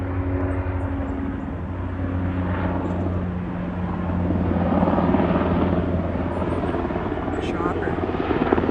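A helicopter flies overhead near a roadside parking area, a steady loud rotor and engine drone rising slightly in the middle, with a person talking over it.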